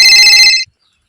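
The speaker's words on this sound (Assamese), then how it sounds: "ফোন মাৰিছে" A mobile phone ringtone plays loudly and close for about half a second, a bright tonal chime that cuts off abruptly into silence.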